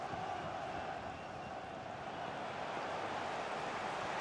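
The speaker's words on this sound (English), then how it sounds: "they're making some noise here because they see an opportunity" A Millwall football crowd at a home match against Sheffield United, making a steady, distant roar of massed voices that holds at an even, fairly faint level without distinct peaks.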